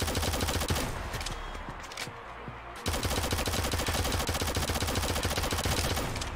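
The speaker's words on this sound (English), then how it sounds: "Yeah, machine gun does damage." Machine gun fire in the shooter game Shadowgun Legends rattles in rapid, continuous bursts with a brief pause near the middle before the fire resumes, loud and close.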